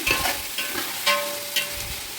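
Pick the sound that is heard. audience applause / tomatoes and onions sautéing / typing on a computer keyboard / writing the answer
tomatoes and onions sautéing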